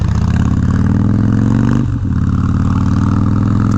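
Suzuki DRZ400 motorcycle engine running with a loud, steady, close-up single-cylinder thump, a brief dip near the middle, then resuming.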